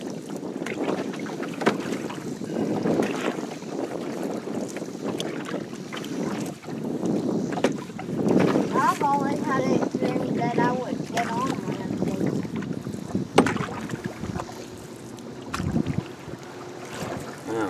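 Paddle strokes of an Old Town Saranac 146 canoe splashing and swishing through water, repeated at an uneven pace, with gusty wind buffeting the microphone throughout.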